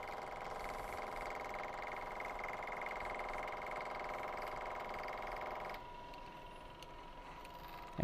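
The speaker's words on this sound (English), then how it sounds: "Cranked up the knee another 100 thousandths." The knee of a manual milling machine being raised by hand crank, a steady faint mechanical whirring hum that drops off near the end, with no speech.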